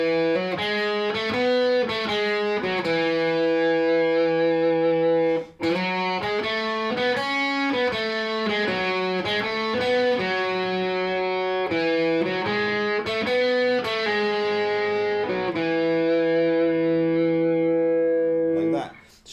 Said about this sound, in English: there's this guitar line that sounds like this.